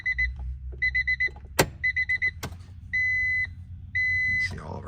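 A 1991 Acura NSX being started: repeated dashboard chimes sound in quick groups, with a sharp click and thump in between, followed by two longer sustained warning tones over a low idle hum, heard close up inside the car.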